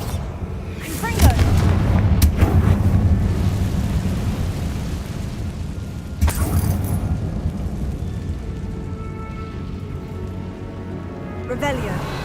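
Confringo fire blast spells explode in combat in the Hogwarts Legacy video game, several sharp booming bursts over a rumbling, continuous battle din with a voice speaking briefly.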